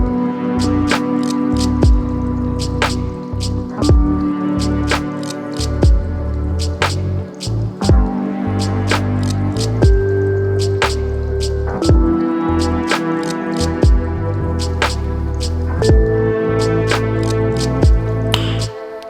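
A mellow lo-fi beat plays steadily, with crisp clicking percussion over soft keys and a deep bass line, loud and continuous with no talking.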